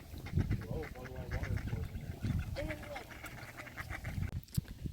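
Several ducks quack in short bursts nearby at a boat launch on Fourth Lake in the Adirondacks, while people talk quietly over and around them.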